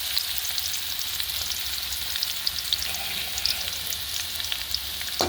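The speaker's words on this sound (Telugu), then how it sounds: "మనం ఫస్ట్ అయితే ఈ బీరకాయ పొట్టు అయితే వేయించేస్తున్నాం" Ridge gourd peels fry in hot oil with a steady, dense sizzle and crackle that runs unbroken throughout, close and fairly loud, with no voices.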